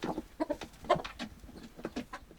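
Chickens in a coop in a snowy mountain village, several soft clucks and short calls coming in uneven bursts, close and fairly quiet, with no talk.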